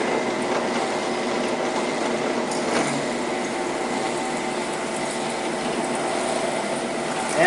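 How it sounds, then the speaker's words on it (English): A power drill runs steadily while a metal trailer is being built, giving a continuous, fairly loud whirring whine with no pauses and no voices. "So, start the drill bit."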